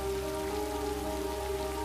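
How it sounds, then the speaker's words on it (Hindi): Heavy rain pours steadily throughout, a dense, even wash of drops, with a sustained tonal hum running beneath it. "बारिश बहुत तेज हो रही है।"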